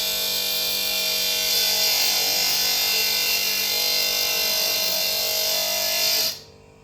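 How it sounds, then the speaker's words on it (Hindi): Power tool cutting an oversized nut on a KTM 390 Adventure motorcycle, a loud steady high-pitched whine running continuously for about six seconds before stopping abruptly, with no talk. "ये नट बड़ा आ गया सर, काट रहे हैं इसको।"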